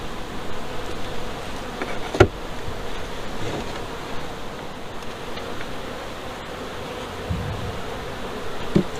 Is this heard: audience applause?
no